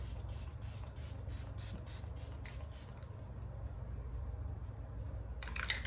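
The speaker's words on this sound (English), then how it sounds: "I'm gonna spray my face with the e.l.f. Stay All Night Micro Smooth" e.l.f. Stay All Night Micro Smooth setting spray mists onto a face in about ten quick, close, sharp pumps, followed by a quiet gap and another brief spritz at the end.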